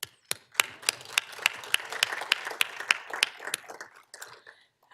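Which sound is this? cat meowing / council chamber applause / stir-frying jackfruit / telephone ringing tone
council chamber applause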